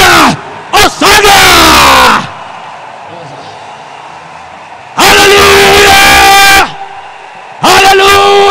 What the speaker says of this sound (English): join me with a loud ovation and with a clap offering.